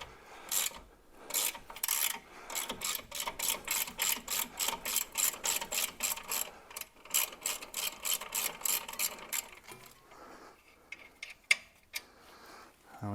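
A ratchet clicks rapidly and evenly while turning a 15 mm brake bolt on a Jaguar XKR that sat for 11 years, a long run of close, crisp clicks that gives way to quieter scraping and fumbling near the end.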